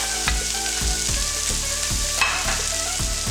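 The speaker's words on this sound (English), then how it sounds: "You hear that sizzling sound, guys? The oil is hot." Peppers and carrots fry in hot oil in a pan with a constant close sizzle, while a utensil scrapes and stirs them in a regular rhythm about every half second.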